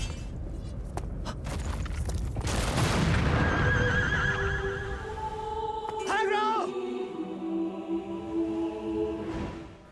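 Agro, the horse in the video game Shadow of the Colossus, gives a loud, drawn-out whinny as a bridge collapses beneath it, amid rumbling crashes and falling debris, with a voice talking over parts of the scene.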